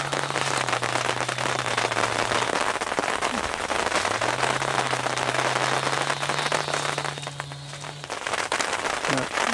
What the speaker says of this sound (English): More rain coming down now.